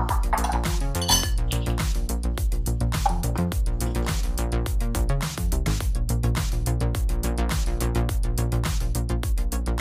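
Roasted whole spices are tipped from a pan into a bowl while making mango pickle, producing a close, steady rattle of hard little clicks and clinks against metal and glass, with no talking.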